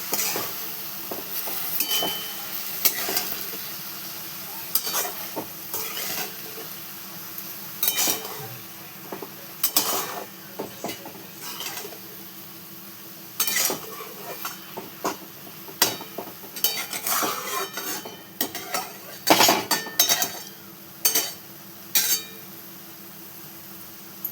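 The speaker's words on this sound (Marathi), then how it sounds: "अशी मिक्स करून घेतली भाजी" Dill greens being mixed with lentils and salt in a pan, with repeated close metallic scrapes and clinks of a spoon against the vessel in an irregular rhythm, over a quiet background.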